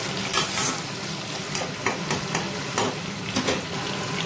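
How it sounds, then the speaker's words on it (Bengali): A spoon stirs salt into a sizzling pumpkin and potato curry in a pan, with steady frying hiss and repeated soft scraping knocks, close and continuous. "নুনটা ভালো করে মিশিয়ে নেবো যাতে আলু আর কুমড়োর মধ্যে ভালো মতো মিশে যায় নুনটা।"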